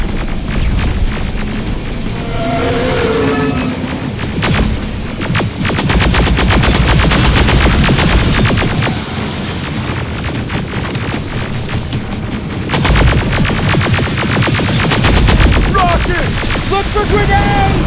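Gunfire in a Terminator video game, long bursts of rapid automatic fire with booming hits, loud and dense almost throughout, with shouted voices breaking through in places.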